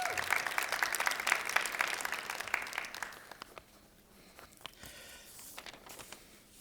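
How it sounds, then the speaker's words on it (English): An audience applauds, a dense burst of clapping for about three seconds that quickly thins into a few scattered claps and quiet room noise. "Let's give her another round of applause."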